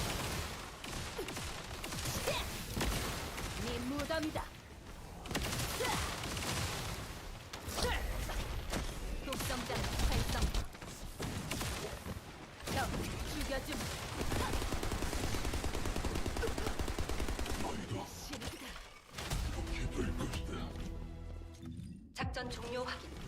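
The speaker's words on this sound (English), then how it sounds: "I don't like how stationary her toxic machine gun thing is." A toxic machine gun firing steadily in The First Descendant, a sci-fi looter shooter: dense, rattling automatic fire runs almost continuously, with brief gaps, mixed with game effects and a voice talking over it.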